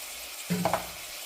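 Chili powder hits a hot pan and sizzles briefly while being stirred, a short soft burst of frying with a faint scrape, then quiet.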